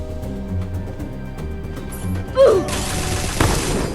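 An upgraded M60 machine gun in a video game opens up after a few seconds of tonal game music, pouring out a loud, sustained stream of heavy, close shots.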